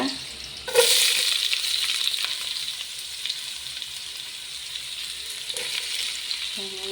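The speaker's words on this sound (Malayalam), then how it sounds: "ഇട്ട് കൊടുത്ത് സവാളയും കരിവേപ്പിലയും കൂടെ കുറച്ച് കരിവേപ്പിലയും സവാളയും കൂടെയാണ് ഫസ്റ്റ് ഇട്ട് കൊടുക്കുന്നത്" Sliced onions and curry leaves hit hot coconut oil for a home-style fish biryani, setting off a sudden loud, close sizzle that settles into a steady frying hiss.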